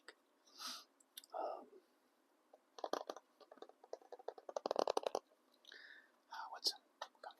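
Close, wet gum chewing with soft smacking mouth sounds in uneven clusters, interspersed with quiet whispering in an intimate ASMR setting.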